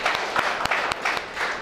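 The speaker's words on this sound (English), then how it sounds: "Shall we clap her for her answer?" A classroom of students claps together for a classmate's answer in a lesson on seed dispersal. The applause is dense and continuous, close and moderately loud, with a few sharper individual claps standing out.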